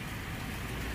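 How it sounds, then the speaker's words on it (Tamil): Heavy rain falls at a house with a rooftop terrace, a dense, steady hiss of drops that fills the whole moment without a break. No voices are heard. "மழை நல்லா பெய்யுது"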